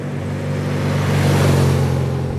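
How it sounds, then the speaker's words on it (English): A motorcycle engine rumbles close by, a deep steady gurgling idle that swells slightly and holds, with no talking. "It's got like a nice bottom end kind of a gurgle, rumble to it."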